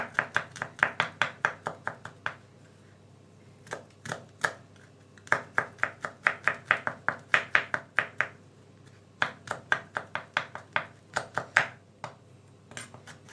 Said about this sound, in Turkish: Küçük küçük doğradığım sarımsakları